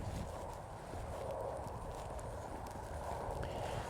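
A horse steps forward slowly during lateral groundwork, its soft, muffled hoof falls faint under steady outdoor wind noise.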